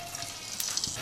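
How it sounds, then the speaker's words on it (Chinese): Sichuan peppercorns fry in hot oil in a home wok, giving a soft, steady sizzle with faint crackles and a light stir near the end, quiet and close with no voices. "锅里放油，然后放上花椒，给它炸一下"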